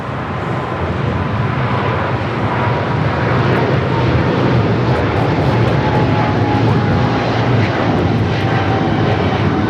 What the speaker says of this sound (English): That was the Air Cargo, the 777 freighter